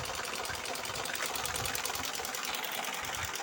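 Sewing machine running steadily at home with a fast rhythmic mechanical whirr, heard close, with a person talking over it.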